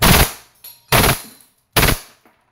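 A WE Hi-Capa T-Rex airsoft pistol fires on full automatic, with three sharp, loud bursts about a second apart, each a short rattling clatter followed by quiet, close and without talk.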